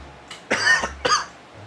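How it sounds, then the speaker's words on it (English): Two sharp coughs in quick succession, close by, with a faint breath before them and quiet afterward. "I was holding in that cough through the intro"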